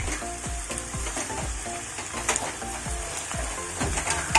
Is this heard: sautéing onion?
yes